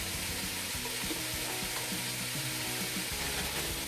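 Garlic sautés in a stew pot on a home stove for venison stew, a dense continuous sizzle with low rumbling bubbling underneath, steady and close throughout.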